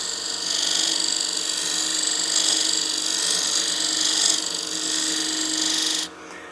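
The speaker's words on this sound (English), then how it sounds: "When I'm using the beading cutter, I wag the handle back and forth to make sure I get a full, nice, rounded bead" A beading cutter working a bead into wood spinning on a woodturning lathe, a steady high whirring scrape with slight swells as the tool rocks, then it cuts off abruptly near the end.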